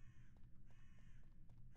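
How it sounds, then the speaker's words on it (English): A crow caws several times in quick succession in a Minecraft horror game, faint and somewhat distant over a low background hum. "I hear a crow."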